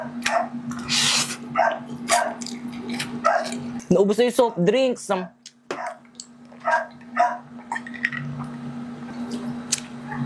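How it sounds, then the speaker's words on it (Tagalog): A few short barks and yips from male dogs break through a busy outdoor scene near a barbecue stall, mixed with people talking and a steady hum in the background. "kaya maingay yung mga lalaking aso"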